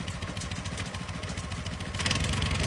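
A motor cultivator engine runs at a fast, steady rattling rhythm, close and loud, and revs a little harder toward the end.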